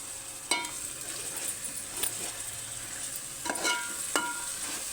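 Ground onion paste fries in a pan with ginger-garlic paste for an okra gravy, a steady close sizzle broken by a few light metallic taps of a stirring spoon.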